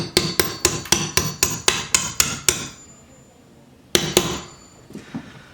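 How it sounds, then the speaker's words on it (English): A hammer drives a pin through a shotgun receiver in a quick run of about ten sharp metallic blows, then a pause and two or three more strikes, close and loud with brief ringing tails. "I'm just going to drive this pin through."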